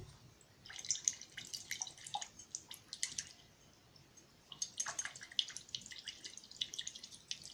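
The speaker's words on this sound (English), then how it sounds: "rinse out my brush" Water trickles and drips while a paintbrush is rinsed out, coming as soft, close splashing in two quiet bursts separated by a short lull, with no talking.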